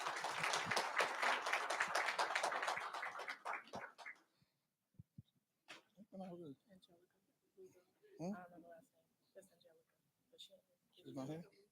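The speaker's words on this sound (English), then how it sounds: "How about giving this young lady a round of applause?" Applause from the audience at a school board meeting lasts about four seconds, followed by quiet pauses and scattered speech.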